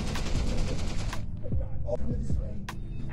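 Rapid automatic turret gunfire in the video game Content Warning, a dense stream of shots for about a second, then a few sparser bursts in the background.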